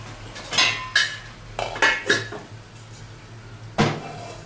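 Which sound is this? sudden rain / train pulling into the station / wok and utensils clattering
wok and utensils clattering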